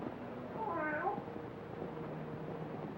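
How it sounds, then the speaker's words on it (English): A cat meows once in a short, wavering cry in an old horror film set in a graveyard, rising over a steady background hum. "how often have I told you to keep that cat from desecrating my graves?"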